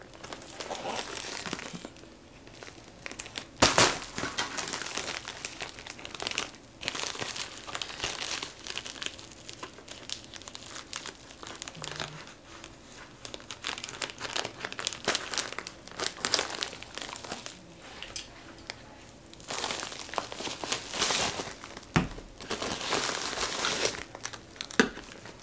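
Package being opened and cut, with crinkling plastic packaging and crunchy rustles in bursts throughout, close and fairly quiet, no talking.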